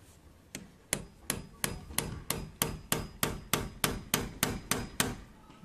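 A wall nail taps against a closed PVC window in a steady series of about fourteen sharp, evenly spaced knocks, close and clear with no voices.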